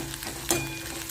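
Onion, green chili and curry leaves sauté in hot oil with mustard seeds, giving a soft continuous sizzle and a brief stirring scrape in the middle.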